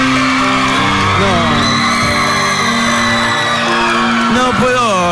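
A television studio audience at a dance competition final shouts, whoops and cheers loudly and continuously, a dense crowd roar with rising yells throughout.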